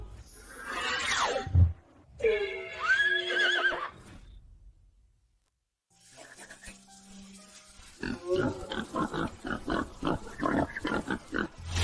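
Diseased pigs squeal, grunt and snort in irregular bursts with gaps between, then a run of rapid, rhythmic grunting and oinking close by toward the end.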